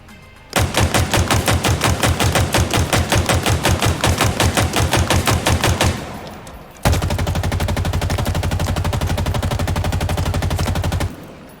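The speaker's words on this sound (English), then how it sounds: "Again, more pistol shots hitting closer to center." Sidekick pistol fire in Halo Infinite comes as two long, rapid, evenly spaced runs of loud, sharp shots, the second faster and denser, separated by a short pause.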